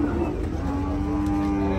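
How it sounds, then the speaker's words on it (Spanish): A cow at a busy open-air livestock market in San Rafael Cedros gives one long, sustained low moo, close by, over background crowd and engine noise. "Miren qué gran vaca."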